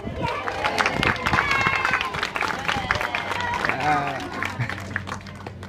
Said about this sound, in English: Now can we give Solo a really big cheer?